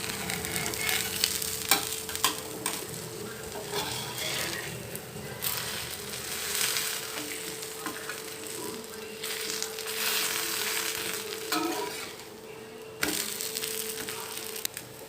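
A cauliflower dosa sizzles and fries steadily on a hot pan, a continuous close crackle with occasional scraping and clatter as it is moved and lifted, no voices heard.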